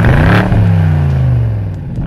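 A BMW 8 Series grand tourer engine revs loudly and close, a strong rising then steadily falling growl that holds for about two seconds, with no voices.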